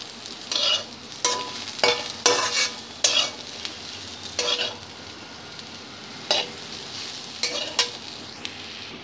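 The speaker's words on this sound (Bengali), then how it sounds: "আলুগুলো ভালোভাবে গলেছে কিনা চেক করার জন্য আমি খুন্তি দিয়ে এইভাবে কেটে দেখবো।" A spatula scrapes and stirs potatoes frying with cumin and poppy seeds in a pan, with repeated rhythmic strokes over a steady close sizzle and no talking.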